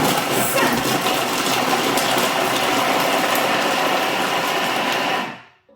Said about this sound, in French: je ne peux pas mettre en route mon Thermomix. Donc là, je vais aller sur la vitesse 5